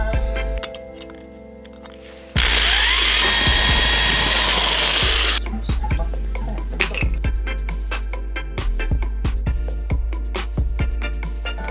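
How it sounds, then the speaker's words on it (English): A power drill grinds loudly, drilling out a rivet on a Volvo 122 Amazon, starting with a high whine and bursts of harsh grinding, then sputtering in uneven pulses as it works. "I'm gonna drill it out and replace it."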